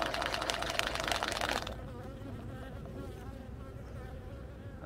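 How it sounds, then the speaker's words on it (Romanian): Honeybees and drones in an opened hive, a colony treated with oxalic acid strips, make a dense continuous buzz. It is loud at first and then drops to a softer, steady hum with no talking. "Da, acum avem și trântori aici. Și albine."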